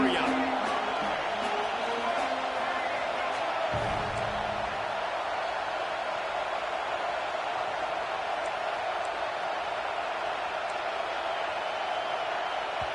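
A College Football 26 stadium crowd roars in a steady, loud wash of cheering that holds throughout, with a commentator talking over it.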